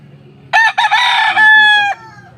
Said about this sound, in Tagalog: Ito, mga binebentang manok.